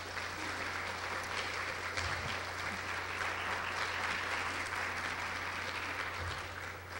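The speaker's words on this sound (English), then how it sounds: "I'm glad you clapped for them" An audience applauds steadily for Ginny Barnett and Jean Leonard at a September 11 forum on young children, a dense, even wash of clapping sustained throughout, moderately distant with no voices over it.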